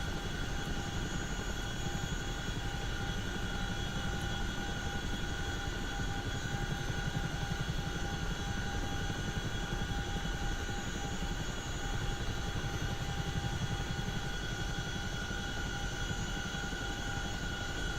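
A Chinook helicopter in a flight simulator game gives off a steady, droning rotor and engine roar at moderate level with no breaks, a constant mechanical hum throughout.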